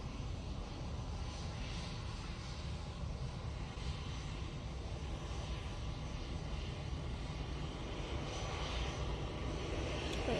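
Aircraft engines at Manchester Airport give off a steady, moderately distant roar that holds level throughout and builds slightly toward the end.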